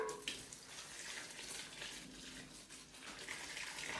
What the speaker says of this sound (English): I'm going to water that while I'm in here.